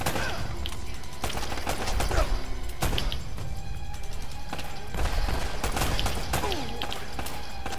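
Rapid gunfire bursts and impacts from the video game Uncharted: Drake's Fortune crackle through a busy combat mix, with repeated sharp shots and thuds spread across the whole stretch.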